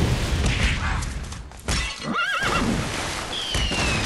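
A horse neighs in the Secret of Monkey Island Special Edition adventure game, a wavering whinny rising over dense game sound effects and music, with a thin whistling tone sliding in near the end.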